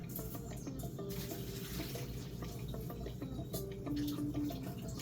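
Water from cooked Wai Wai instant noodles pours steadily out, a continuous close splashing trickle that runs the whole time without pause.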